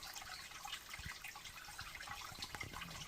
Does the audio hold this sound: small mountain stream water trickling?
yes